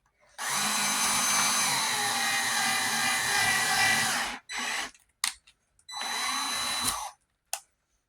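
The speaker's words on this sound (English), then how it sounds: "we're gonna go ahead and drill a couple holes, like right around here-ish." A power drill whines loudly for several seconds, then runs in shorter bursts with pauses between, close by and with no talking, drilling holes while wiring HO scale Atlas turnout tracks.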